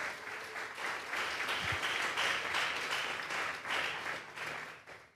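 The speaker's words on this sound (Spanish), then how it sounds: "Vamos a darle un fuerte aplauso al Señor." A church congregation at a Sunday afternoon service claps together in sustained applause, a full, fairly even wash of many hands that swells and dips slightly over a few seconds.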